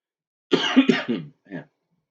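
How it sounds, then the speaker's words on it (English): A single person coughs a couple of times in quick succession, close to the microphone, followed by a short quieter cough after a brief pause. "my cough these mornings have been rough"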